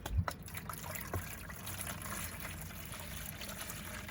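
Fresh treated water trickles and pours steadily into a reptile's cleaned water bowl, close and soft, with a few small knocks near the start.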